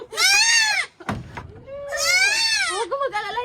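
A goat bleating loudly and close, two long wavering cries separated by a brief knock, the second trailing into shorter quavering calls.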